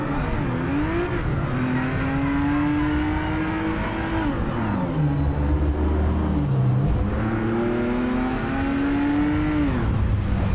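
A GT race car engine in the video game Project Motor Racing revs hard and continuously, its pitch climbing through gears, dropping on downshifts and rising again, loud and close with no talk.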